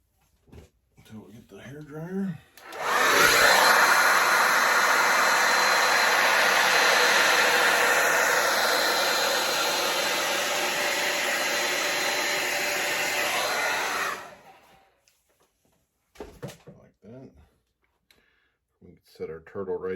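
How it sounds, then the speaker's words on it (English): A hair dryer roars on over a fluid acrylic Dutch pour painting of a sea turtle, blowing loudly and steadily for about eleven seconds before cutting off, with brief talk and small handling noises before and after. "until we get the hair dryer."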